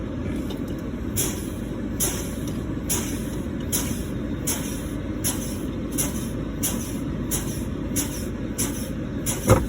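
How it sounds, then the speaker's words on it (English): A truck's air brake system pulses, with a regular series of sharp, hissing air bursts from the brakes as the pedal is fanned and the emergency brake valves pop out, over a steady idling engine; no voices. "Both emergency brake valves will pop out."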